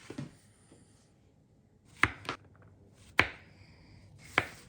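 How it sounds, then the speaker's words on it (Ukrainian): Mushrooms being sliced into thin slices on a board: four or five sharp, isolated knife chops spaced irregularly, close and fairly quiet with near silence between them. "Почищені наші грибочки нарізаємо, я буду пластинками."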